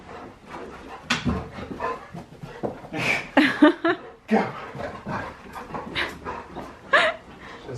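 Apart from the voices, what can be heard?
excited dog whimpering after dog park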